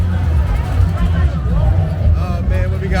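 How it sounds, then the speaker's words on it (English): Crowd hubbub fills a pre-carnival street party in Salvador, Bahia: loud, close babble of many voices over a low rumbling background, with people talking nearby. "We got a whole new crowd we about to walk through though."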